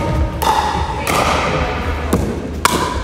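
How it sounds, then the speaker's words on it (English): Pickleball paddles striking the ball in an indoor leisure-centre hall in Kidderminster, a few sharp separate thuds and taps spaced across the moment with a reverberant room wash behind them. "Well, Malk, that is the sound of pickleball"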